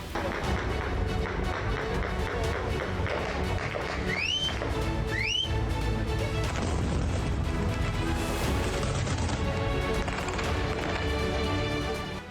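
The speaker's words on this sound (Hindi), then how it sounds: "कई ड्रोन ने टारगेट हिट किया, जिससे विस्फोटों की आवाज सुनाई पड़ी" Muffled booms of drone strike explosions in Erbil buried in a constant roar of noise, with a couple of brief rising whistles partway through.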